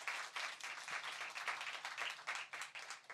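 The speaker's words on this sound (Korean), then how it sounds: "우리 진짜 하나님께만 영광의 박수 한번 올려드리도록 하죠" A church congregation at a Sunday worship service claps together in sustained, dense applause, steady and fairly loud throughout with no voices on top.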